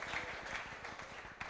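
An audience at a church worship service claps for the interpreter, a short burst of fairly loud, dense applause that holds steady for about a second and a half.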